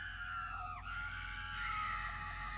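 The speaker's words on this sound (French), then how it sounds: "Vous entendez alors le hurlement des invités qui se précipitent vers la sortie." Guests scream in panic as they rush for an exit during an audio drama, a sustained high wailing chorus that bends and wavers over a steady low rumble and stays loud throughout.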